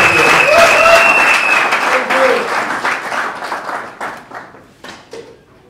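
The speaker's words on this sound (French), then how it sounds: "sur l'applaudissement, nous encourageons le meilleur présentateur" Audience applause for the best presenter at a diploma award ceremony, loud and dense at first, then thinning into scattered claps as it fades over several seconds.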